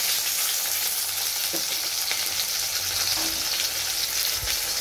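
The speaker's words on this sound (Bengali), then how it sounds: "আর এখানে মাছটা ভেজে নিচ্ছি।" Fish frying in a pan at home, a steady close hiss of sizzling oil throughout with a few faint clinks and stirring touches.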